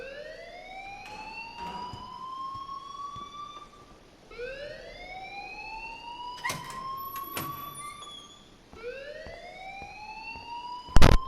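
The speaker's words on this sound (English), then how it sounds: "please turn off that alarm since that's your job" Fire alarm ringing inside the video game Life is Strange: a repeating rising electronic wail, each sweep climbing for about four seconds, fairly loud and steady, with a few sharp clicks and a brief loud burst near the end.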